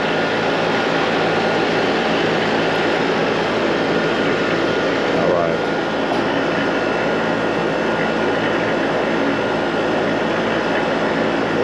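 Trane or Goodman HVAC compressor running outdoors, a loud, steady broadband whoosh and drone that holds constant throughout, heard close up.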